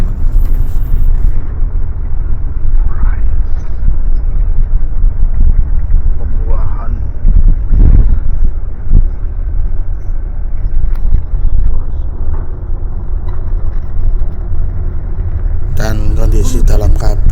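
Cabin of a moving, fully booked Sarwonadhi Trans bus on the Denpasar to Surabaya run, filled with a constant loud rumble of engine and road noise and occasional faint knocks and rattles.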